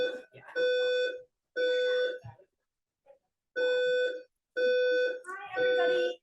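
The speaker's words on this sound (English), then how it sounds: "This is not a real fire alarm." A building fire alarm under test blares in repeated long electronic tones, loud and close, sounding in pulses of about a second with short gaps, one longer pause midway, and the last pulse overlapping with a voice.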